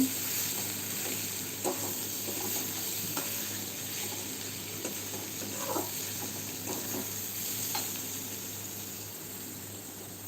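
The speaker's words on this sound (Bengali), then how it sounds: "আমি সকালবেলা রান্না করছি তো বাঁধাকপি রান্না করছি" Cabbage cooks in a pan in a home kitchen in the morning, giving a constant soft hiss of frying with a few faint stirring clicks and scrapes scattered through.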